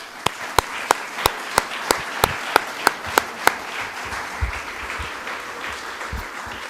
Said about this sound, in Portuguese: eu pediria a todos uma grande salva de palmas